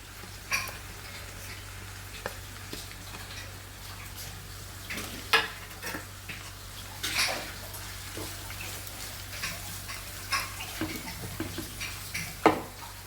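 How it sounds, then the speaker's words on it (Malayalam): Sliced onions fry in hot oil, with a steady soft sizzle broken by scattered sharp clicks and scraping stirs of a spatula against the pan, no voices. "അങ്ങനെ നമ്മുടെ ഉള്ളിയെല്ലാം ഇവിടെ, സവാള എല്ലാം ഇവിടെ ഫ്രൈ ആയി വന്നിട്ടുണ്ട്"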